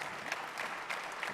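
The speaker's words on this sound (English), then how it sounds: "how about a round of applause for Joe Callahan?" An audience at a college football trophy presentation applauds in a steady wash of clapping, faint and somewhat distant, with a few louder claps standing out and no speech.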